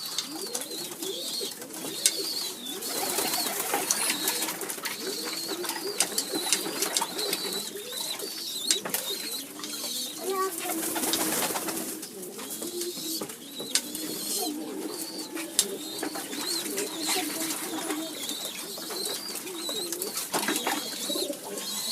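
Domestic pigeons cooing in a loft, a continuous layered chorus of soft throaty coos with occasional sharper bird noises, close and steady throughout.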